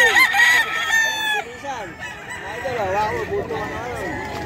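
A Lemon Sweater gamefowl rooster crows loudly and close by at the Bocaue poultry market, giving long, drawn-out calls that overlap with other crowing birds and busy market background noise.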